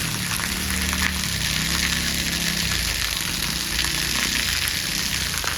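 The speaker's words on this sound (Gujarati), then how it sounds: "આમ જો નકરો વરસાદ જ આવી ગયો અને ઘરમાં ક્યાંય બહાર નથી જવાતું એટલો વરસાદ છે" Heavy rain pours down on a farm with water flooding the fields, a dense, constant hiss of rainfall and running water that continues evenly without talk.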